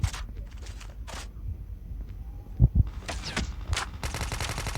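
Video game gunfire crackles in rapid automatic bursts, several short volleys near and loud, separated by brief lulls with a couple of heavier thuds in between.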